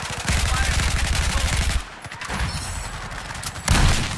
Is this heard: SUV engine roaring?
no